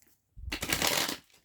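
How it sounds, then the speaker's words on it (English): Tarot cards riffle and slide together in a dense burst lasting under a second, close and fairly soft, after a brief quiet start. "Let me get all these cards up, and we'll have to do some shuffles again"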